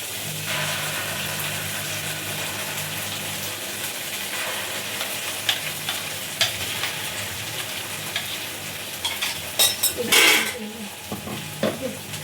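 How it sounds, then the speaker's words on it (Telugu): Onion paste frying in a pan for mutton biryani and curry, a steady sizzle with scraping stirs and clinks of a spoon against the pot, louder clattering bursts near the end. "ఈ యొక్క ఆనియన్స్ పేస్ట్ కూడా వేసేస్తున్నాం"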